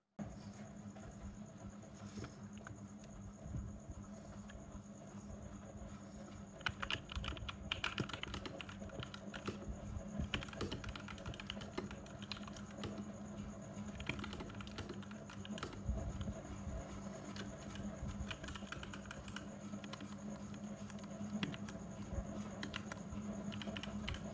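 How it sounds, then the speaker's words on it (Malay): Rapid clicky key presses on a Zifriend KA646 mechanical keyboard, a continuous patter of typing close by with a faint steady hum behind it. "bila tekan dia punya key tu"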